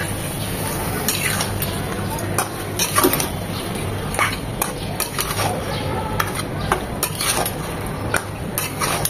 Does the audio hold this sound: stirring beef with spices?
yes